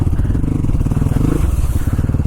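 A Hero Xpulse Pro motorcycle rides off-road through mud, its engine a loud, steady, close rumble with a slight shift in pitch partway through.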